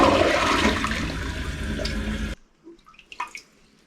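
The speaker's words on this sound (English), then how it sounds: "Let's go ahead and give it a flush and see if it flushes any better." A slow, weak toilet flushes with a loud rushing swirl of water close by, cutting off abruptly into quiet trickles and drips as the tank refills.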